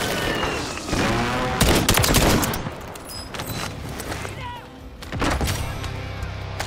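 Bursts of gunfire in Call of Duty Warzone, with a loud volley, a break, then more shots and thuds, mixed with game effects and some faint voices.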